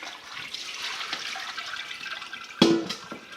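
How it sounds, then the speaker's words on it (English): Sea buckthorn water kefir poured back from one pot into another, a soft continuous liquid splash and trickle running throughout, with a sharper clatter of pot or utensil near the end. "I'm going to pour it back one more time."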